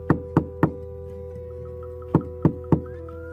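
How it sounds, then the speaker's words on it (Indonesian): Knuckles rap on the door of a house from outside, two quick sets of three loud, close, hollow knocks with a pause between them over a low steady hum. "tiba-tiba pintu rumah diketuk dari luar"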